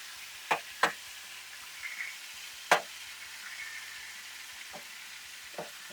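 Ground beef patty frying in a pan, a quiet steady sizzle under sharp knocks and scrapes of a spatula flipping and pressing, with a few isolated taps scattered across the stretch and no talking.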